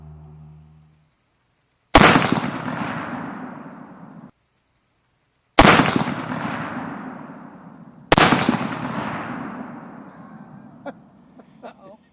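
Three sharp, loud rifle shots from a Ruger American .308 ring out a few seconds apart outdoors, each a sudden crack followed by a long decaying echo.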